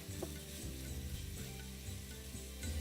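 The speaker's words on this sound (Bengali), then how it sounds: "ফ্লেমটাকে মিডিয়াম করে ভালো করে ভেজে নিতে হবে" Onions fry in oil on a medium flame with a soft, steady sizzle and faint stirring at close range, fairly quiet and continuous throughout.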